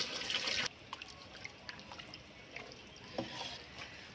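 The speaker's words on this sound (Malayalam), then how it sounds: "പിന്നെ നമ്മൾ വെള്ളം ഒഴിച്ച് കൊടുക്കാം കേട്ടോ" Water pours into a pot of beef curry in a home kitchen, a brief trickling splash at the start. Faint drips and small clinks follow in quiet room tone.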